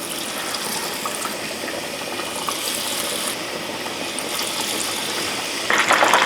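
Steady, loud sizzling and crackling of fish frying in hot oil, a continuous hiss with a brief louder burst near the end.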